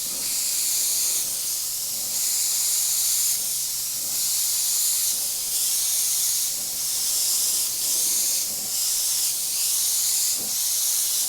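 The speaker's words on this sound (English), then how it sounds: "So I've just turned the PSI up to around 50, and I think that's spraying a lot better." An Iwata HP.TH airbrush sprays steadily at around 50 PSI, giving a continuous, fairly loud airy hiss that holds through the whole stretch with slight pulses in strength and no talk over it.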